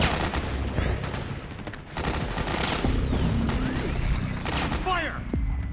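Heavy gunfire in the game Metal Gear Solid 4, dense automatic bursts and sharp shots crackling loudly over a battlefield, with shouted voices mixed in among the shooting.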